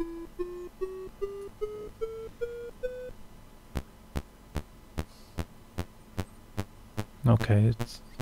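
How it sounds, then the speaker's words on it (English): A Commodore 64 sound chip test tune on THEC64 Mini: a rising sequence of clear sustained beeps steps upward in pitch, then gives way to a steady pulse of sharp evenly spaced clicks ending in a brief noisy burst, all alone with no talk. "it's testing the three voices with a very special test tune."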